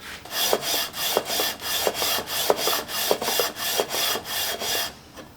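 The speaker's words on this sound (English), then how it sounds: "it's been about an hour of sanding now" Steady back-and-forth sanding on a wooden guitar fretboard, radiusing it, a rhythmic rasping stroke repeated about twice a second, close and even.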